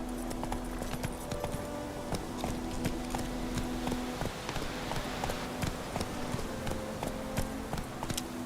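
Horse hooves clop rapidly and steadily as a horse runs in The Witcher, with a continuous rhythmic clatter close by and a faint tonal hum underneath.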